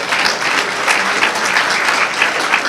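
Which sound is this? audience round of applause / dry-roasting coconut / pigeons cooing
audience round of applause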